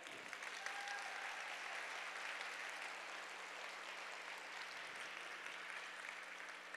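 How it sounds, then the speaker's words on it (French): Applause from an audience at a women's evening event, thanking the event's partners, a steady even wash of clapping heard faintly and at a distance, with a low constant hum underneath. "On les applaudit, s'il vous plaît."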